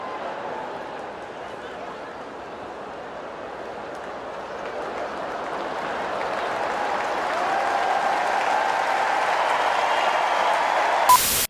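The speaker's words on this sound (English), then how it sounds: "a stadium full of people cheering for a guy that can't get a torch open" A stadium crowd cheers in a steady, broad roar that swells gradually louder over several seconds before cutting off abruptly at the end.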